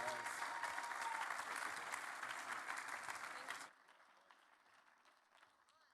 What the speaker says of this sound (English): Can we put our hands together for Jacob and Lydia?